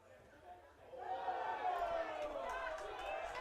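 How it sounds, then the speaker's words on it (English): Crowd at a women's soccer match swells into a disapproving murmur and groan that builds and holds, moderately distant, with a commentator talking over it. "You heard the crowd not liking it"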